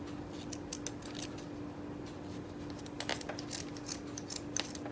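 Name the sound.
scissors cutting strings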